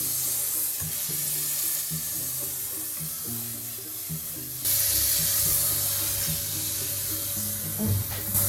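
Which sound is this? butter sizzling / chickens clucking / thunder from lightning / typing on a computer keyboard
butter sizzling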